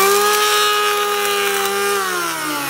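A Parkside PEH 30 C3 electric planer runs close and loud in a continuous, steady harmonic whine during a test cut on wood. Its pitch sags slightly near the end as the motor slows.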